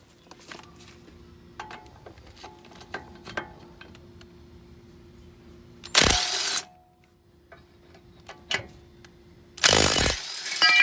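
An impact wrench hammers at 18mm bracket bolts held with red threadlocker on a high-mileage Volvo XC90, in two loud, harsh bursts under a day of tinkering noises and faint rattles in between.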